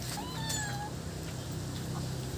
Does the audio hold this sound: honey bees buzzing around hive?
no